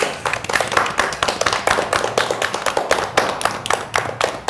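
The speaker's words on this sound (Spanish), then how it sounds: "Un aplauso para todos." A small group claps after finishing a memory card game, a close, crisp patter of individual hand claps with a quick uneven rhythm lasting the whole stretch.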